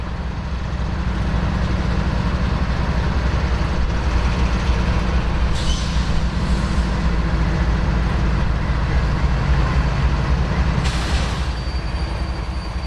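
Coal train on a railroad main line near a yard, a loud continuous rumble of heavy freight cars and locomotive with a couple of brief hissing air releases, steady and close throughout.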